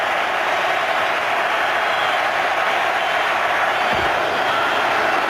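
A steady, loud roar from a stadium crowd at an NFL game between the Patriots and the Bills in Buffalo in 2014. The noise is a dense, unbroken wash of voices that holds even throughout.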